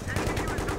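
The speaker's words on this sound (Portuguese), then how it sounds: "Atira no canto que eu vou atirar no outro." Rapid automatic gunfire from a Battlefield 3 co-op video game mission, a loud, continuous burst of shots lasting under a second.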